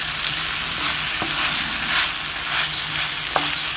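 Worcestershire sauce hits a hot pan of Tuscan chicken and sizzles loudly and steadily, with a couple of brief stirring clinks, no voices.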